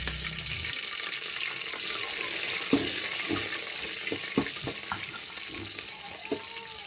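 Sliced onion frying in hot oil with mustard seeds and curry leaves for a potato, black chana and green peas sambar, a steady close sizzle with scattered pops and light clinks, no talk.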